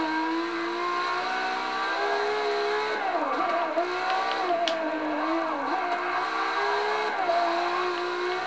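A LaFerrari in the racing game Forza 6 accelerates hard off the line, its engine loud and close, pitch climbing and dipping through several gear shifts over a steady roar.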